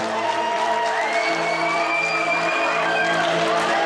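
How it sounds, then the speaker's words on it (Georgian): Audience at a folk dance festival competition claps and cheers in sustained applause, with whoops and children's shouts mixed into the steady crowd noise. "შეგვიძლია ჩვენ აპლოდისმენტებით მივულოცოთ"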